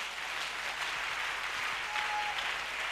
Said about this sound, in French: Alors, une acclamation au Seigneur.